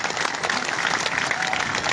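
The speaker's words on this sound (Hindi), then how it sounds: "इनका जोरदार तालियों से स्वागत करो।" A crowd at a political rally in Pipri, Maharashtra, claps in a loud, close, continuous burst of applause that stays steady from start to finish.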